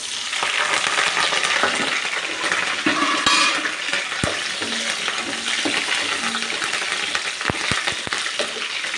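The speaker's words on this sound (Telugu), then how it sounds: "తాలింపు కాగింది." Curry leaves, onion, dried red chillies and tempering seeds sizzle loudly and steadily in hot oil in a pan, with a few sharp clicks and clatters of utensils over the continuous frying hiss.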